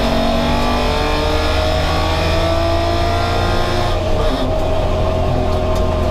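A Chrysler Valiant E49 Charger with a Hemi Six engine revs hard and launches at a race, a loud, continuous straight-six roar holding a steady pitch close by, with no voices over it.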